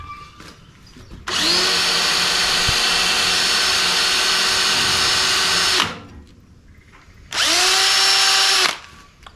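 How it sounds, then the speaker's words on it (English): A power drill drilling holes for a Jeep Gladiator bed rack whirs loudly in two bursts, a long run of several seconds, a pause, then a shorter run, each spinning up and stopping abruptly. "I need to drill some holes."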